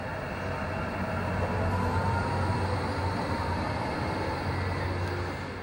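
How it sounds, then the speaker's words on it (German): A Frankfurt U-Bahn U5 series tram-like railcar, in service since 2008, runs past with a steady loud rumble and rolling rail noise, a faint whine on top. "Diese Triebwagen der Baureihe U5 sind seit 2008 unterwegs."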